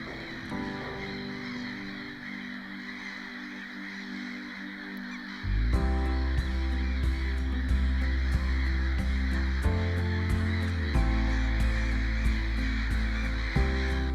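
Hundreds of birds, crows or geese, flying over a small lake in Sweden at sunset, their caws and honks steady and fairly distant over a low wind-like background that thickens partway through.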